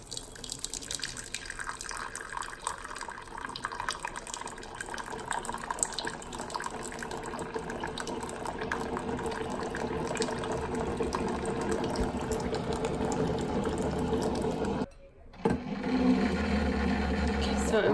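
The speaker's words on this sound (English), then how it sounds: "So I'm getting some hot water." Hot water pours steadily from a tap in a continuous, fairly loud rush that stops briefly for a moment near the end and then resumes.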